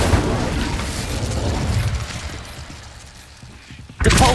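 A fiery Incendio spell bursts in Hogwarts Legacy with a loud, sustained whooshing roar that fades over a few seconds before a fresh sharp burst hits at the end.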